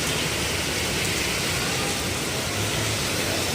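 Dense, steady hiss of heavy rain pouring down on a flooded street at Scout Tobias and Timog Avenue, loud and unbroken, with a faint low rumble of traffic underneath.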